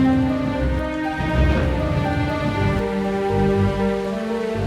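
A thunderstorm over a castle, with heavy rain pattering steadily and a low thunder rumble rolling underneath, loud and continuous without any talking.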